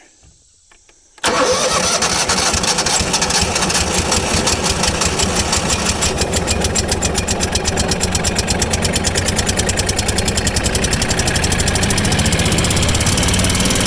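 A gas-powered mud pump engine running on bad gas catches after a second of near silence and settles into a loud, steady, rapidly chugging run close by.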